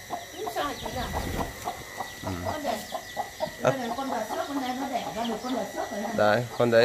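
A hen clucks among other chickens at a rural market stall in Tuyen Quang, Vietnam, her short calls scattered and close while people talk over and around them.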